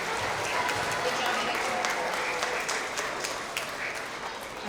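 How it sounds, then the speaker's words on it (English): Applause from a school audience fills a kindergarten-to-second-grade award assembly, a steady dense patter of many hands held at an even level throughout, with a voice briefly speaking over it. "Let's have a continued round of applause for all of our first grade Tigers of the Quarter."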